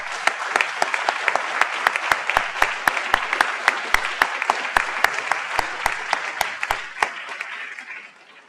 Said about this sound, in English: I'd like to ask you to join me in a round of applause for all of our winners